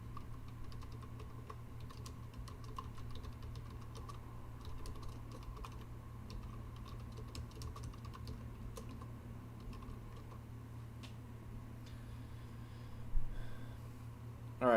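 Someone types on a computer keyboard, with quiet scattered clicks over a steady low hum that runs throughout.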